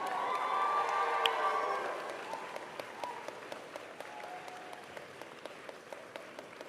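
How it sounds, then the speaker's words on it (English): Graduating class at a university convocation ceremony applauding families, friends and faculty: a loud swell of crowd clapping and cheering that thins into scattered individual claps as the hall quiets. "I want to now invite the members of the graduating class to reciprocate by applauding your family, your friends, your faculty, the staff"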